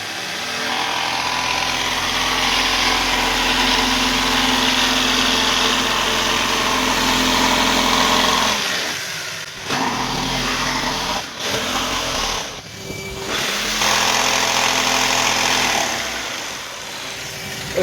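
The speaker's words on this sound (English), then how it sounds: "we're just simply going to use the jigsaw" A jigsaw cutting an alcove unit board around electrical fittings, a loud continuous buzzing whine, close up, that stops briefly a few times before starting again.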